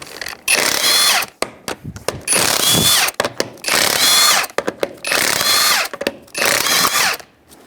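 Power tool, likely an impact wrench with a 19mm socket, removing a wheel from a 2005 Honda Element: five loud, close bursts of whirring and rattling hammering, separated by short pauses.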